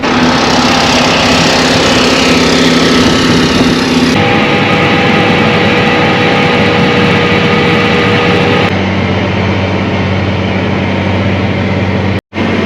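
A John Deere tractor engine runs steadily after starting, a loud, close, continuous drone with tonal hum that shifts pitch twice as the revs change, then cuts briefly near the end.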